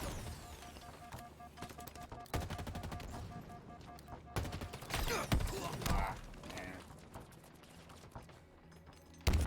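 Rapid automatic gunfire and single shots from the Halo video game, bursts of firing with mechanical clanks of weapons, fairly loud and continuous over the clip.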